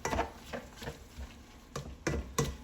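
A spoon stirring garlic and onion into goulash in a pot, giving soft scraping knocks against the pot at irregular intervals, faint and close.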